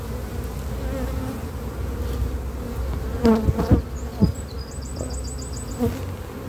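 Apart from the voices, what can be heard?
young honeybees buzzing on a brood frame from a hive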